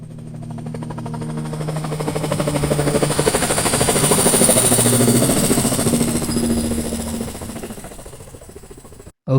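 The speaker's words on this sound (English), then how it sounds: "Let's listen this helicopter circling around in stereo." An AI-generated helicopter circles in stereo with a steady, rapid rotor thump that swells louder toward the middle and fades again before cutting off, with no voices.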